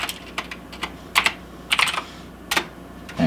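Short bursts of typing on a computer keyboard, clustered clicks and key taps in separated groups, close and fairly quiet with no talk.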